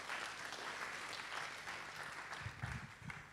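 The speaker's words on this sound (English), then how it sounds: "Shall we clap for him?" An audience at a university orientation for new students claps for a speaker. The applause is soft and distant, an even wash of many hands, with a few thumps near the end.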